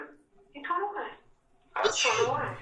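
A single person sneezes loudly near the end, after brief conversational speech from people in a courtroom-watching setting.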